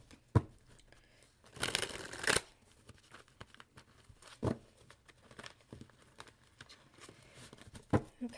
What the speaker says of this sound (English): let me get a good shuffle here and clear some of the energy